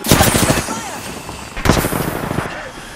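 Bursts of gunfire in the video game Apex Legends, a loud rapid volley at the start and another sharp burst partway through, with the noisy clatter of a battle between them.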